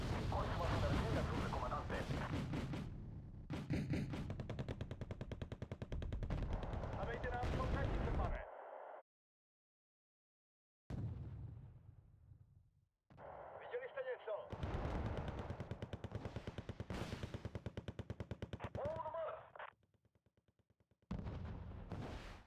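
Gunfire and artillery in the real-time strategy game Wargame: Red Dragon, with loud dense bursts of shots and booms broken by two short silent gaps, and someone talking over the battle.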